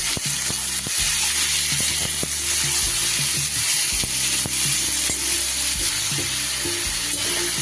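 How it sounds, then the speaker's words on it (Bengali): Papaya pieces fry in hot oil in a wok on a gas stove, a loud, constant sizzle broken by repeated scraping and knocking of a spatula as they are stirred, close up. "পেঁপেগুলো দিয়ে একটু"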